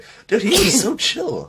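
A single close sneeze bursts out mid-conversation, followed by a short second exhale, with people talking around it.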